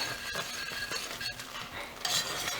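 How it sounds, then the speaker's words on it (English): Whisk beating a still-hot castile soap mixture in a bowl, a close rapid stirring swish with light metallic clinks against the container, continuous and moderately quiet. "So I'm going to use my whisk for this actually, because I really want it to get it incorporated."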